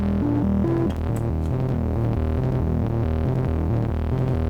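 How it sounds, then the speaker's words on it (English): Steady sine-wave tone from a modular synthesizer, a continuous throbbing hum with shifting stepped pitches, loud and alone with no talking. "now we need to do something about the sine wave"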